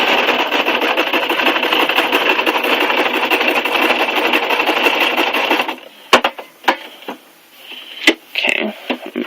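Sewing machine running a long straight stitch through a mini art journal, a steady fast whirring drone that stops abruptly, followed by a few clicks and handling taps.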